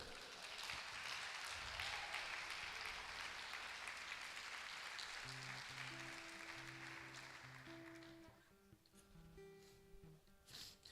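Church congregation applauding during a worship service, a dense, sustained wash of clapping that fades toward the end as soft instrumental music and low voices come through underneath.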